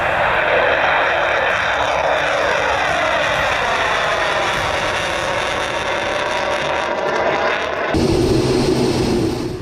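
A Russian Su-34 fighter jet roars overhead in a war setting, its loud, continuous engine noise carrying a sweeping tonal whine that slides downward as it passes, then a sudden louder surge near the end.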